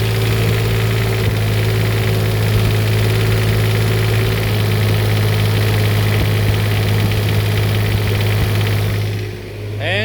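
A generator engine runs steadily under a load test, a loud, constant droning hum with a strong low tone that holds for most of the stretch before the engine shuts off and spins down near the end.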